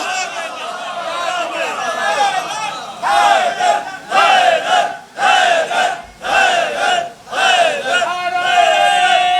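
A large crowd at a religious gathering in Johar Town, Lahore, chants a slogan in loud, rhythmic bursts of massed voices. The bursts repeat with short pauses between them.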